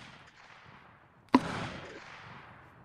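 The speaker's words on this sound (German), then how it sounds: "Wir warten, bis sie ihre Schüsse raus haben." A single sharp musket shot from a line-battle reenactment cracks out after a quiet moment, followed by a fading rumbling echo, heard from some distance.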